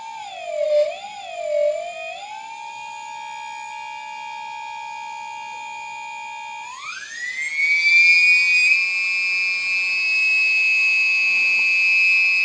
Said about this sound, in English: It runs without any vibration, steady motor.